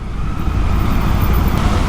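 Heavy road traffic in Mumbai: a dense, continuous low rumble of vehicles close by, loud and unbroken, with no voices.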